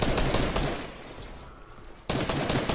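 Video game gunfire while shooting down enemies, a dense, rapid-fire burst that thins into a low rumble, then cuts back in loud and sudden near the end, with no voice.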